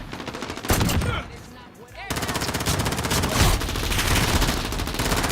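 Gunfire from a shooter video game crackles in rapid bursts of loud shots, with a brief lull before dense, sustained firing resumes.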